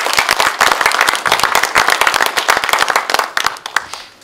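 An inauguration ceremony crowd in a hall claps loudly and sharply, individual hand claps standing out within the applause before it tapers off near the end.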